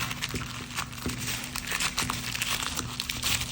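A plastic bag being folded, smoothed and pressed flat to push out the air, giving a continuous close crinkling and rustling with small crackles through the whole stretch.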